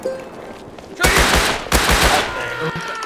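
Gunfire in the survival game Rust, two loud bursts of rapid automatic shots about a second apart, each ringing out briefly over quiet background noise.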